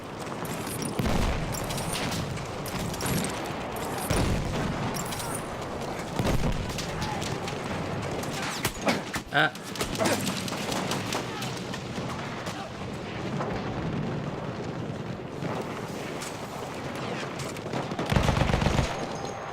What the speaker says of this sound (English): Man, Lewis gun's accurate. Okay, this Lewis gun is very good now.